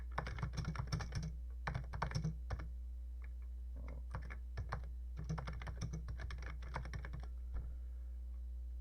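Rapid bursts of typing on a TI-99/4A computer's Mitsumi membrane keyboard, soft clustered key presses with brief pauses between runs, close and fairly quiet.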